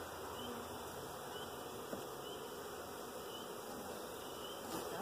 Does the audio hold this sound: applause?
no